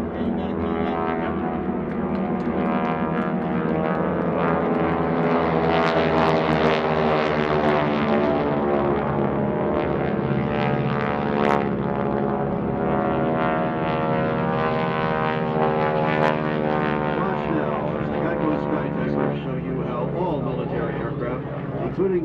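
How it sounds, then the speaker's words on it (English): GEICO Skytypers vintage propeller airplanes fly in formation at a World War II Weekend airshow, a steady loud engine drone running the whole time beneath continuous announcer talk over the PA. "The Skytypers will perform another 90-degree turn to set up for their rejoin to a delta formation."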